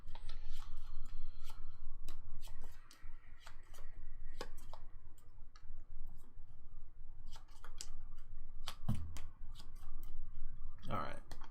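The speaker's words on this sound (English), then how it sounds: "I think I shuffled these good enough" A deck of playing cards being shuffled up close for the solo card game Friday, with dense repeated flicking and snapping that pauses briefly, then resumes; a voice talks quietly underneath.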